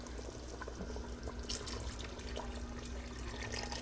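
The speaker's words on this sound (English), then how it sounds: "Add water to cook the chicken." Water poured into partially cooking chicken in a pan with coarsely ground spice mix for Lucknowi chicken dum biryani, a steady close splashing pour over a low hum.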